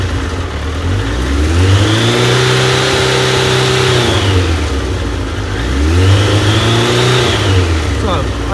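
A Triumph Daytona 1200 motorcycle engine runs on partial choke, loud and close, swelling through two long revs that rise and fall with an uneven idle between them.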